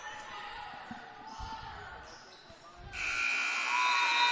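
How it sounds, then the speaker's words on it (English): Gym crowd noise with ball bounces at a girls' ball game, then a loud sustained electronic end-of-game buzzer blares for the last second and a half. "Hear the buzzer sound, and that will put the finish on this ball game."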